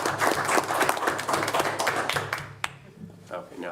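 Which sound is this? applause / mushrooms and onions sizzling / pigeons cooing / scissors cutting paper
applause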